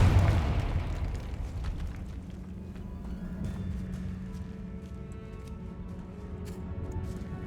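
The Confringo blasting spell in Hogwarts Legacy goes off as a loud, deep explosion at the start, then fades into a rumbling tail with scattered crackles and ticks.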